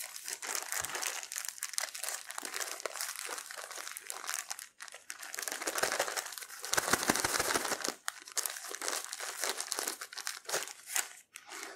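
Crinkling plastic bag of half-frozen dandelions being handled and pulled open, a continuous loud crumpling and crunching that carries on steadily with brief dips.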